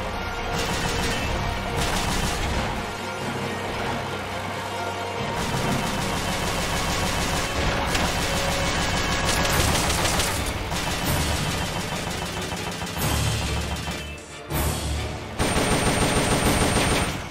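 Dense, continuous gunfire and explosions in the video game Metal Gear Solid: Peace Walker, loud and unbroken over game music, with rapid automatic bursts and a brief lull near the end.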